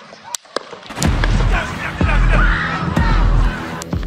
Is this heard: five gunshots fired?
yes